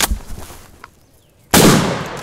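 A shotgun fires during a spring turkey hunt outdoors: quiet rustling, then one sudden loud close blast with a long rough tail.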